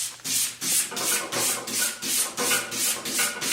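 An axe blade is sharpened with wide back-and-forth strokes on a 400-grit stone, making a steady rhythmic rasping of about ten even strokes, close and loud with no talking.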